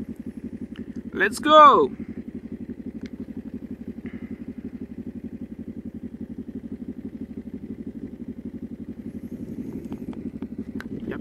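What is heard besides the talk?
motorcycle engine starting and running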